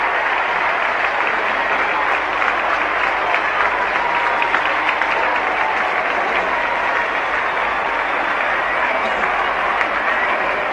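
At the 1968 VFL Grand Final between Carlton and Essendon, the crowd applauds and cheers without a break. The dense, loud clapping carries on steadily as the Carlton players cheer their coach, Ron Barassi.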